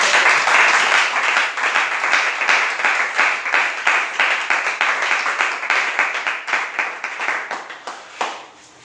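Church congregation applauding and clapping together during a French-language service, a steady, dense wash of hand claps that holds for several seconds and thins out toward the end.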